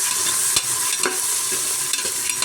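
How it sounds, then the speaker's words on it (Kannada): Soaked peas being stirred into a frying vangi bath mixture in a pan, a steady bright sizzle broken by a few scraping spoon strokes, close and clear with no voices. "ಹಾಕ್ಕೊಂಡು ಒಮ್ಮೆ ಚೆನ್ನಾಗಿ ಮಿಕ್ಸ್ ಮಾಡ್ಕೊಳ್ಳೋಣ."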